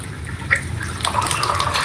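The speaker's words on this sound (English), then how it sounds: "it's natural for water to come out like that because the pipes are just draining down" Water trickles and drips from the draining pipes of a leaking faucet being repaired, a close, continuous splashing flow with a few distinct drips.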